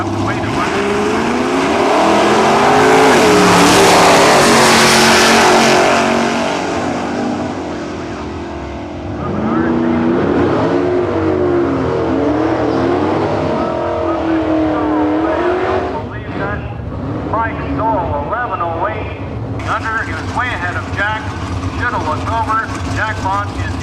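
Drag racing cars, including Jack Bond's Anglia, launch at a nostalgia drag meet in Cayuga, Ontario, with a loud, close engine roar that swells and then fades down the strip, and an announcer talking afterward.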